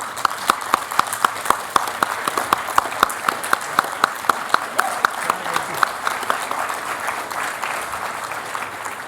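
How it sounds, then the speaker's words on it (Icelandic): An audience applauds at a university graduation ceremony at the University of Akureyri, a steady wash of many hands clapping with sharp individual claps standing out throughout. "Við gefum henni gott klapp."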